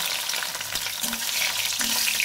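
Eggplant pieces fry in hot oil in a pan for a Bengali mixed vegetable dish. A bright, close sizzle runs throughout, with a couple of soft stirring scrapes and no speech.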